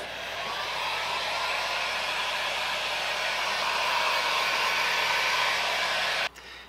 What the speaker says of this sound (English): use a heat gun.